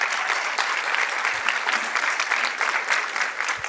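Graduate students at a convocation ceremony applaud one another, producing dense, loud, sustained clapping from a large crowd without a break.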